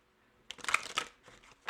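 A deck of tarot cards is shuffled in a quick riffling flutter, followed by a few softer card taps and a final snap, close and quiet.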